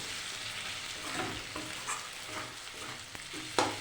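Catla fish fat sizzling and frying in a pan with very little oil, a steady close crackle and hiss with occasional stirring scrapes.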